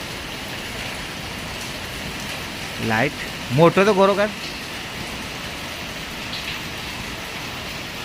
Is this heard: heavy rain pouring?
yes